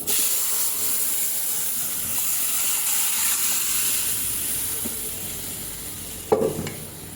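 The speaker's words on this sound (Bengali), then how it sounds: "তো এখন ডালটা ঢেলে দেবো" Boiled dal poured into a hot tempering of onion, garlic and cumin fried light brown in oil, giving a steady close sizzling hiss throughout with a sharp louder spurt near the end.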